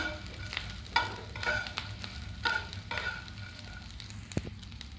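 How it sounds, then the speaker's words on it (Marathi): Edible gum frying in hot ghee for winter laddoos gives a steady close sizzle, with a few louder bursts and scrapes as it's stirred; no one talks. "थोडासा डिंक घालून मी तळून घेणार आहे"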